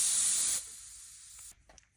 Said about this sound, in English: we are putting 50 pounds of air in these.